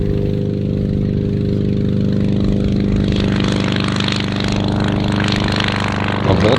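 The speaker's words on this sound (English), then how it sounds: "Volkswagen engine, huh?" A small airplane powered by a Volkswagen engine cut in half to four cylinders drones loudly and steadily nearby during its takeoff run, a sustained buzzy engine tone that swells slightly near the end.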